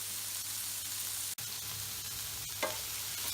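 Garlic paste sautéing in a pan for butter chicken, a steady close sizzle running throughout with a brief sharp scrape or clink partway and another soft stir near the end.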